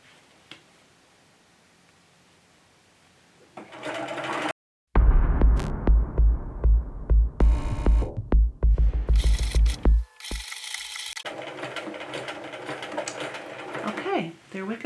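A sewing machine stitches fabric and lace in loud, rapid rhythmic bursts with short pauses between runs, close up, starting after a quiet opening. Mechanical clicks and hum sit under the stitching.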